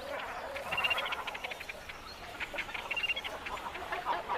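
Colony of cormorants and waterfowl at a lake in the Balkans, with dead trees and reed beds: a busy chorus of overlapping croaks and quacking calls, moderately distant and fairly faint.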